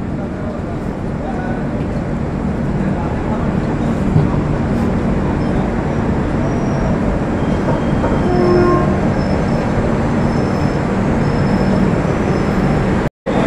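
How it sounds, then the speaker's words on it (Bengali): Jalpaiguri Road–Sealdah Humsafar inaugural special train at platform 5 of Azimganj Junction, a steady loud rumble of rolling rail wagons with faint wheel squeal running without a break, with a brief dropout near the end. "জলপাইগুড়ি রোড শিয়ালদহ হামসফর উদ্বোধনী special train Azimganj junction rail স্টেশনের 5 নম্বর"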